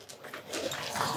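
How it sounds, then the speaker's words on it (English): A dog gives a short, loud, whiny bark or yelp up close at a lively party game, a single burst of vocal noise with no clear talking. "my dog Kevin."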